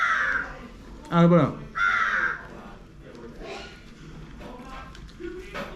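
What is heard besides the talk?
crows cawing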